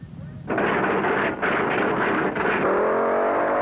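Drag racing cars at the 1972 UDRA Spring Nationals launch off the line with a sudden loud roar that holds steady, briefly dips, then settles into a high, sustained engine scream.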